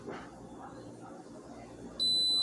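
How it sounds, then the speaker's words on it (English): An Instant Pot pressure cooker beeps as cooking starts on yellow rice and chicken: a sharp, steady electronic tone cuts in near the end after a stretch of quiet kitchen noise. "Okay, so now it's beeping and it's saying it's on"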